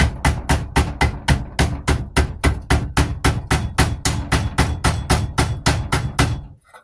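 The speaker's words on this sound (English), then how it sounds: "we're going to take the screwdriver, sit it in there like that, and we're going to try to smack it down" A hammer repeatedly strikes a screwdriver set against a rear hub bearing on a 2006 Dodge Grand Caravan, about twenty sharp, evenly spaced metallic blows, close and loud, stopping abruptly at the end.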